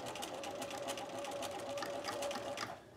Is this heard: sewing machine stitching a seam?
yes